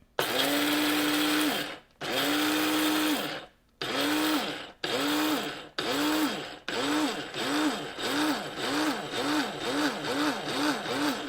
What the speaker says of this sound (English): just pop the lid on the coffee grinder, grind it for a little bit.